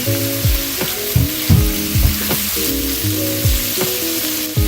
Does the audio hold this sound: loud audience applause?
no